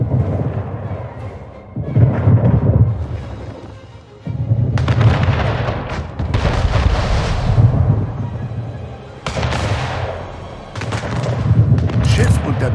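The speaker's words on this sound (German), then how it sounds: "Schiff unter Beschuss." Cannon fire and booming shots in the PC strategy game Anno 1800 as a ship comes under attack, heavy rumbling bursts repeating in several waves with brief lulls between.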